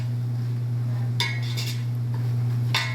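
A utensil stirs and scrapes a roux of fat and flour in a pan, with a few sharp clinks against the metal over a steady low hum.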